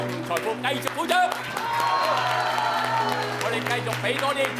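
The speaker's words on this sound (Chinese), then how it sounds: "系啦，我哋为自己嘅健康同财富继续鼓掌，" Audience applause fills a community residents' association hall during a health talk, a steady wash of clapping with some cheering that swells and holds over a persistent low hum.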